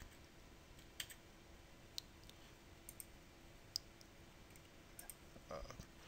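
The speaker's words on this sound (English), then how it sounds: "hit the insert key on my keyboard twice to add" Faint, sparse clicks of keys pressed on a computer keyboard in a quiet room, a few isolated taps spaced about a second apart with no voices.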